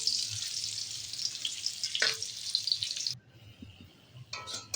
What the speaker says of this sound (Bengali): রসুনটা ভেজে নিয়েছি বন্ধুরা